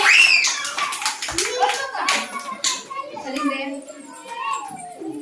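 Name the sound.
children clapping together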